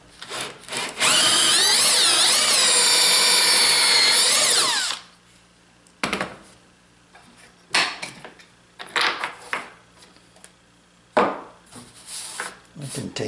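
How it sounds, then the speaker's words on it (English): A power drill bores out a hole in wood held in a straight-line jig, whining loud and steady for about four seconds, followed by intermittent quieter handling and knocking sounds. "It's just a matter of drilling it out."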